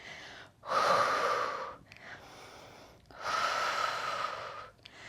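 Two long, deep breaths during a pilates lower-body stretch, each a loud airy rush lasting over a second, separated by quiet pauses, close and alone without talk.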